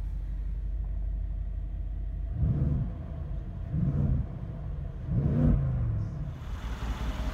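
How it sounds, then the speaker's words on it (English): A 2016 Mercedes-Benz G63 AMG sits at idle and is revved three times in quick succession. Each deep engine swell rises and falls back to a steady rumble, heard close with no talking. "Give it a rev."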